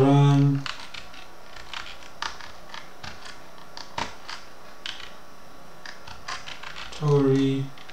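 Typing a command on a computer keyboard at a Linux command line: a run of quick, irregular key clicks, close and fairly quiet, with a voice speaking at the start and end.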